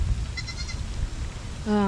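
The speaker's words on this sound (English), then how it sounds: "I have a total of 23 goats." Goats on a family farm bleat at close range, a few quavering calls rising over steady farmyard background noise, with the loudest bleat arriving near the end.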